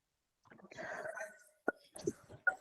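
A woman coughs a few times, quietly and close, with sharp brief bursts after a soft breathy vocal sound.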